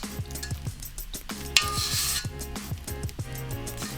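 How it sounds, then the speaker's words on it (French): Pastry dough for a tart being rubbed and mixed by fingertips, a close, soft scratchy rasping in quick repeated strokes, with faint clicks and no talk. "On vient mélanger du bout des doigts."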